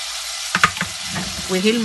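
Onion and duck liver pieces with pepper sauté in a pan, a soft sizzle with a few scraping stirs of a spatula, close and brief.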